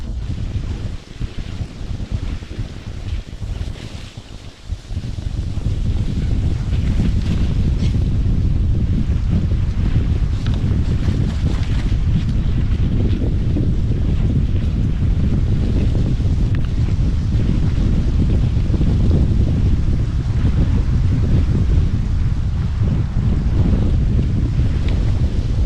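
Strong gusts of wind beside a forest lake batter the microphone in a continuous loud roaring rush that swells after a brief calmer start, with no talking.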